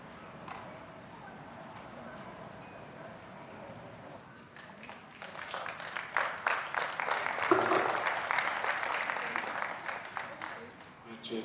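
Audience applause at a conference session starts after a quieter stretch of murmuring and builds into a fairly loud, dense burst of clapping that swells and then tapers slightly.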